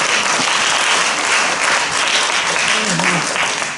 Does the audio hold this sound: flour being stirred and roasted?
no